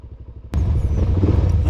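A Suzuki DRZ400 dual sport motorcycle, ridden on desert terrain, idles with a low thumping pulse, then bursts into a loud, rumbling engine roar mixed with wind as it pulls away.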